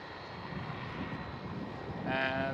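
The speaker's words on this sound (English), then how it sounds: "KLM Cityhopper E195E2 taking off right now." A KLM Cityhopper Embraer E195-E2 jet taking off at Amsterdam Schiphol, heard as a broad, steady engine roar at a distance that swells louder toward the end.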